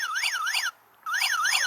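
Small motion-sensor alarm for deterring bears, emitting a quiet electronic warbling siren in repeated rising-falling sweeps, pausing briefly before resuming, close and alone.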